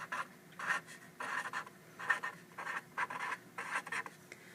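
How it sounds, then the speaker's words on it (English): Pen drawing and writing on a paper foldable, a close series of short scratchy strokes in an uneven rhythm, quiet and alone. "I'm going to draw a little whoopee cushion with a little poof coming out of it"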